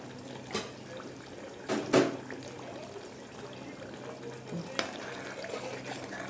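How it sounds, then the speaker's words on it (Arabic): Tomato sauce being stirred in a pot on the stove, with soft scraping and a few sharper clinks of the spoon against the pot over a low background hum. "كده اهو نقلب الصلصه بتاعتنا كويس"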